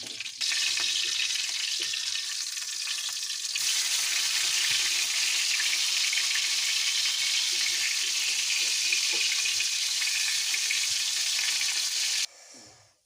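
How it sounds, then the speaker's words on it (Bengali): Prawn fritters fry in hot oil, giving a loud, steady, close sizzle that runs almost unbroken and then cuts off near the end, with no talking. "আমি চিংড়ি বড়া তেল বাজি লাইছি"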